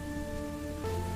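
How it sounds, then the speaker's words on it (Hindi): Steady heavy rain pours outside at night, a constant hiss of drops on surfaces with a low hum beneath, growing slightly louder toward the end. "बाहर तो बहुत तेज बारिश हो रही है।"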